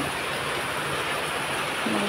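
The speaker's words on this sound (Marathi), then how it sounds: "काल रात्रीपासून भरपूर पाऊस चालू आहे बरं का" Steady, dense rain hissing loudly and continuously, a heavy downpour with no pauses and no voices.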